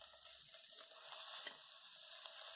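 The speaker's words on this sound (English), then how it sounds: "fry it well so that the color of onion changes" Chopped onions frying in a pan for a vegetarian amaranthus and fenugreek biryani, a faint, steady hiss of sizzling oil with a few soft stirring scrapes.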